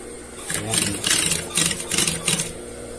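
A walking foot sewing machine stitches velvet upholstery for a divan cushion cover in about five short, rhythmic bursts of whirring. A voice talks nearby at the same time.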